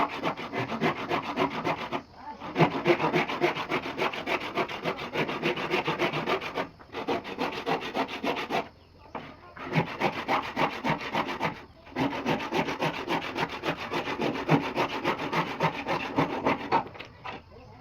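A hand saw cuts through a wooden saw handle in steady back-and-forth strokes, close and continuous, with a few short pauses between runs of rasping.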